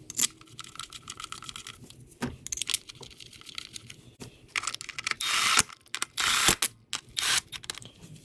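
Ratchet wrench tightening the bolts on ignition coils of a Ford Fusion / Mondeo engine, quick rhythmic clicking runs with metallic clinks and two longer ratcheting bursts, close and alone.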